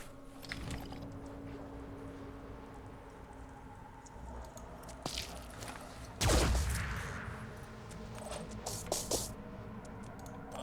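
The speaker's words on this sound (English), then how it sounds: "And I definitely shoot again." Gunfire in the video game Phoenix Point comes as a burst of shots with mechanical clicks and rattling, led by one louder, boomy hit near the middle, over a steady game hum with no speech.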